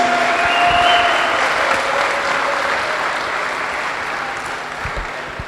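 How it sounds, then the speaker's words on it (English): Audience applause at a press event for an international sports week in Curaçao, dense clapping from a room of people, strongest at the start and gradually tapering off over several seconds. "the biggest round of applause for everybody here in the room"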